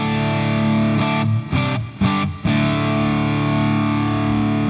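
Heavily distorted electric guitar chords through a cranked amp simulator ring out loud and sustained, with a few brief choppy breaks before the wall of sound resumes.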